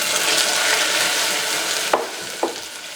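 A hot peanut brittle mixture, fresh from the microwave, is stirred with a steady sizzling hiss, then two quick scraping knocks of the spoon near the end.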